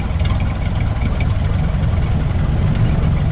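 1931 Ford Model A Huckster delivery wagon engine idling, a steady, loud, low rumbling throb held close and even with no talk over it.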